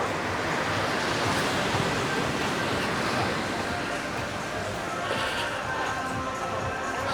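Surf washing onto Kuta Beach in Bali beside a beachfront resort, a broad continuous roar of breaking waves, loud and steady with some wind noise and no clear voices.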